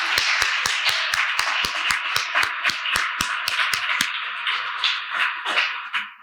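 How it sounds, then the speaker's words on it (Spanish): A church congregation claps along in a steady, fast rhythm, with sharp individual claps riding over a dense wash of applause that fades slightly toward the end. "Si van a aplaudir, apláudanle fuerte para que escuchen los de afuera también."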